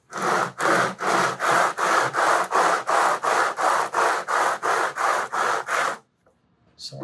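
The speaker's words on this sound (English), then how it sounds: "I've got a 25-foot radius dish with very coarse sandpaper." Guitar body sanded on a 25-foot radius dish with very coarse sandpaper: fourteen even, rhythmic rasping strokes, close and loud, then silence.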